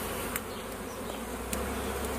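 Honey bees hum continuously in an outdoor bee yard, a dense close drone with occasional individual bees buzzing past, and no speech.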